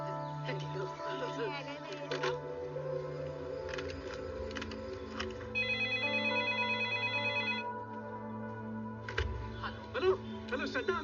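A telephone rings back during an outgoing call, a steady electronic tone lasting about two seconds midway through, with people talking before and after it.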